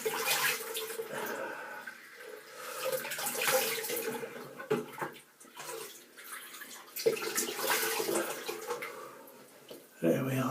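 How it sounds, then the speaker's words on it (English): Water runs and splashes at a bathroom sink as a face is rinsed before a shave with a horse hair brush, the splashing coming in uneven bursts close to the microphone. "Now I'll just rinse my face and I'll be back to you in a moment."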